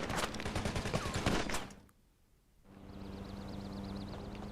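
Rapid bursts of gunfire in a Grand Theft Auto V Online cutscene, dense and loud at first, dropping to near silence, then giving way to a steady hum with a warbling high tone.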